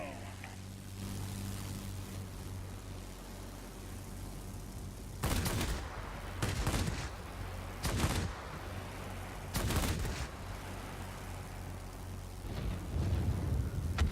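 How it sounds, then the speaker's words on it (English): Several loud, crackling bursts of rapid aircraft cannon fire from a Nakajima Ki-84 Hayate in World of Warplanes erupt in short volleys over a quiet, steady engine drone. "Love those cannons."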